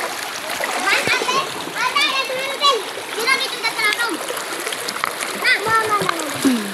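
Water splashes as people bathe in a river in rural Samar, Philippines, with repeated close splashes and sloshing amid constant chatter and children's voices.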